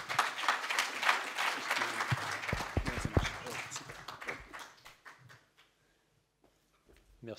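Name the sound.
audience applause at a conference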